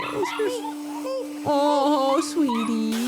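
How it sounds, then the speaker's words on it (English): A puppy whimpers and yips in short high whines, close by, mixed under a woman's soft, cooing talk. "Oh, look at the puppy"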